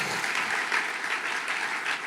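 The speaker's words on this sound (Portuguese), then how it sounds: "Vamos aplaudir o Senhor por isso?" Church congregation clapping together, a dense, even burst of applause that stays loud and close throughout.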